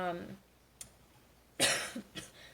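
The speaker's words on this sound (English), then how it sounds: "I just started coughing as soon as I tried to talk" A single sharp cough bursts out after a moment of quiet, followed by a couple of smaller throat sounds, with a brief voice at the very start.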